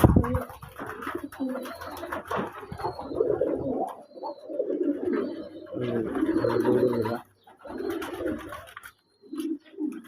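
Several pigeons coo continuously in low, rolling calls close by, pausing briefly near the end before another burst of cooing.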